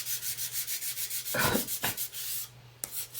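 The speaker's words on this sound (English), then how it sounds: "I'm going to take my 400 grit and sand across here just to smooth it out." Fine 400-grit sandpaper rubbed across a painted surface in a steady back-and-forth rhythm, a close, soft hissing scrape with one heavier pass partway through and a brief knock near the end.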